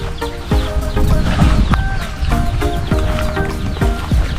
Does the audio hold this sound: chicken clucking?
yes